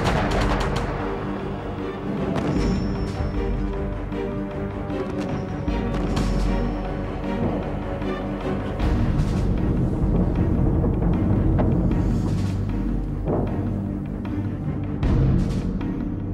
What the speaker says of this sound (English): They hammered the remaining enemy positions in a final all-out bombardment.